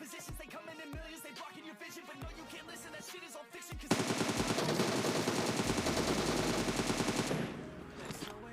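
Gunfire in the battle royale game Free Fire, scattered single shots at first and then a dense, loud burst of rapid automatic fire that holds for a few seconds before cutting off.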